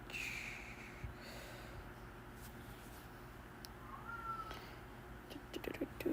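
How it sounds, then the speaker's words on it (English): A thirsty cat wanting water meows and snorts in short, breathy bursts, faint and close in a quiet room with a steady low hum. "My cat won't shush."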